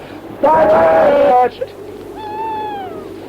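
An owl hoots in a radio drama as a sound effect, a loud, close, drawn-out wavering call followed by a fainter second cry, set against quiet windy background ambience.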